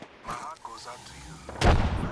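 A grenade detonates in the Apex Legends video game as a loud, sudden boom with a rumbling tail, following a stretch of quieter gameplay sounds and voice chatter.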